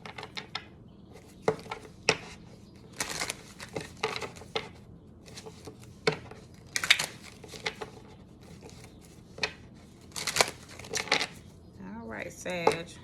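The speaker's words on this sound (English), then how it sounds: "I'm going to shuffle again." A deck of tarot cards is shuffled by hand in repeated bursts of crisp riffling and tapping, close and fairly loud, with brief pauses between.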